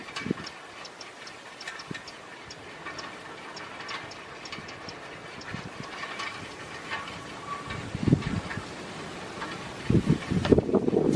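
Strong wind buffets an outdoor e-bike wind turbine, a steady rushing gust layered with faint rapid ticking and clicking from the spinning mechanism, with heavier low thumps of wind near the end.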